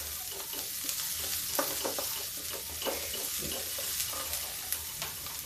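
Onion, garlic and green chilli fry in hot oil with a steady crackling sizzle, broken by scattered pops and spoon stirring, close and without speech.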